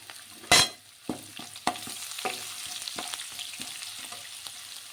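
Ginger and garlic pieces dropped into hot oil in a pan with cumin, a sharp burst of sizzle followed by steady frying crackle and a few spoon taps and stirs.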